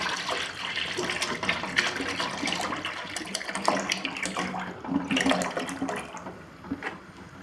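About two liters of fresh milk poured into a nonstick pan for palkova sweet, a continuous close splashing, gurgling pour with uneven surges.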